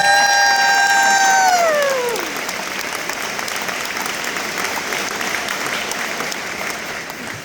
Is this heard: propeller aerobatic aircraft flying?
no